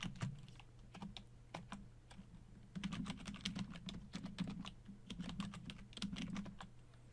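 Rapid clicking of keys on a computer keyboard as a sudo command is entered, quiet and close, in uneven bursts of keystrokes with brief pauses, no talking.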